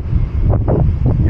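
Strong wind buffets the microphone at an RV resort in Nashville, producing a loud, continuous low roar with gusty surges throughout. No one talks over it.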